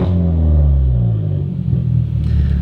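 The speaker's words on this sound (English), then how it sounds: "when I accelerate rather quickly, it misfires" A misfiring car engine rumbles and revs briefly under quick acceleration, its low drone wavering unevenly with a slight stutter and clatter as it climbs.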